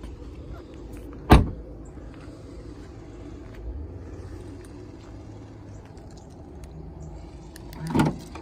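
A rear door of a 2010 BMW 535i is opened with a sharp thump and click, then a second clunk near the end, over quiet outdoor ambience with a faint low rumble.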